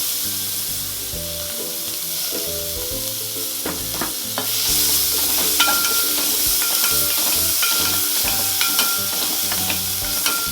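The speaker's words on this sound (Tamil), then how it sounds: "வெங்காயத்தை நல்லா வதக்கிக்கோங்க." Chopped onions with cardamom pods and cinnamon sticks sizzle steadily in a hot pan, stirred often, so the bright, continuous frying hiss is broken by clinks and scrapes of a spoon. The sizzle grows louder partway through.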